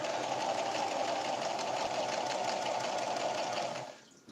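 A sewing machine runs steadily, stitching 1-inch sashing onto the bottom of a stained glass window quilt row, a continuous close whir that stops near the end.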